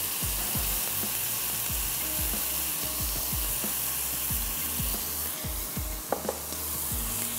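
Food fries in hot oil in a pan, giving a steady sizzle with repeated scraping and stirring strokes, and a sharp clink near the end.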